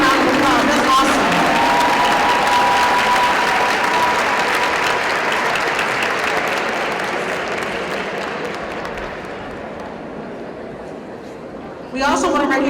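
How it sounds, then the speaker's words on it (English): A large audience at a school district Hall of Fame ceremony applauds an honoree with sustained, loud clapping and some cheering that gradually tapers off, then a voice resumes speaking. "Let's give him a round of applause."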